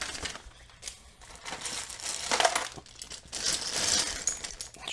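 Small Lego pieces from a used Lego DACTA haul drop and clatter onto a surface in repeated scattered bursts, a close, busy rattling that swells and fades with no talking.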